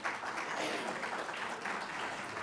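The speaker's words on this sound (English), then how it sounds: "Give a round of applause." A summit audience applauds sponsors in a steady, fairly quiet wash of many hands clapping throughout, heard from a distance without talk.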